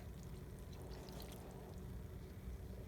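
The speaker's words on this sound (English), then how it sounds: "So we're going to add 2 cups of the chicken stock" Chicken stock poured into a crockpot for cabbage, potatoes and smoked sausage, a soft steady splashing pour that runs continuously and quietly for about three seconds without any talking.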